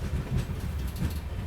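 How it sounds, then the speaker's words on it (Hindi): An Amrit Bharat Express coach rolls along the track near Thiruvananthapuram, giving a steady rumbling clatter of wheels on rails, close and continuous, with no talking. "क्या ही ज़बरदस्त ट्रैक साउंड आ रहा है भाई अपने कोच का"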